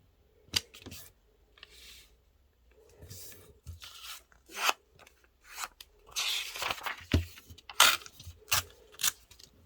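Paper being cut in half with scissors for origami, making a shaved-ice dessert fold; a series of crisp snips and rustles, close and moderately loud, irregular bursts with short pauses and no talking.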